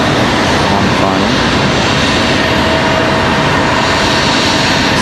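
A CRJ regional jet departs Raleigh-Durham International with an early rotation, its engines giving a steady, loud, broadband roar that fills the whole stretch, with a voice talking faintly underneath.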